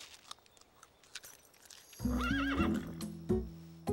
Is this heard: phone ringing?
no